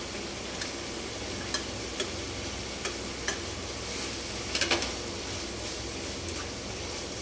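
Carrots go into a sizzling pot of sopas, giving a steady, moderate sizzle with scattered light clicks and stirring taps, close and alone.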